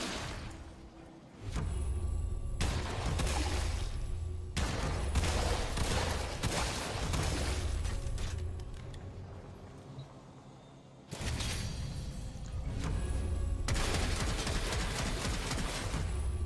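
Bubonico weapon firing in Warframe, loud rapid bursts of shots in two long volleys separated by a brief quieter gap, with whooshing impacts and no talking.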